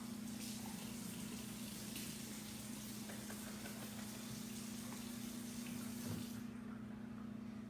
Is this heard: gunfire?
no